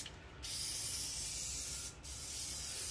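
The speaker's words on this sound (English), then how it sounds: "No, I'm gonna just spray a little bit here." A spray can hisses steadily onto a wooden bench during finishing, making two sustained bursts with a brief pause between them.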